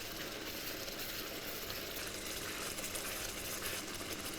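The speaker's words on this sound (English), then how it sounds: "As you can see, the rice is getting cooked and the water is also evaporating." Rice simmering in water by the absorption method for soy nugget pulao, a steady soft bubbling and hiss of liquid evaporating in the pot, continuous and fairly quiet with no talking.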